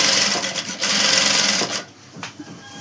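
A sewing machine stitching an umbrella frock, running in short loud bursts with brief pauses between them, then going quieter near the end.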